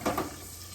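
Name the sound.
battered eggplant frying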